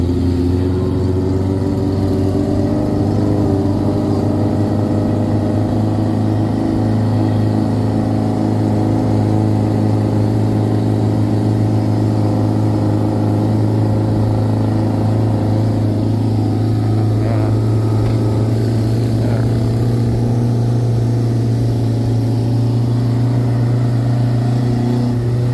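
A jeep engine labors uphill on the road from Kemuning Sky Hills to Candi Cetho, a loud, steady droning hum with slight revving that never lets up.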